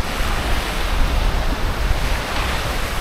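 Steady broadband wash of water lapping along the shore of Lake Kivu in Rwanda, continuous and fairly loud outdoors with wind buffeting the microphone and no voices.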